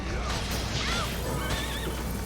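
A horse whinnies twice in Bloodstained: Ritual of the Night, high wavering neighs over a constant noisy background.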